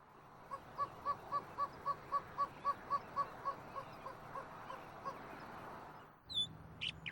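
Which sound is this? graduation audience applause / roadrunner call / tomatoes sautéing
roadrunner call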